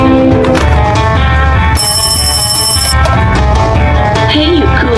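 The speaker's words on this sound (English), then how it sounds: "Many dinners, lunches, and breakfasts in so many homes have been characterized by the ringing of these phones." An old rotary telephone in a home kitchen rings with a bright metallic bell burst partway through, set among loud background music and voices.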